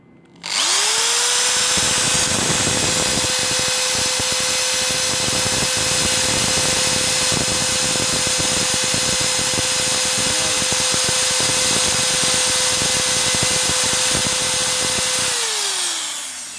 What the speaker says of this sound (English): now let's try to power on the drill on the AC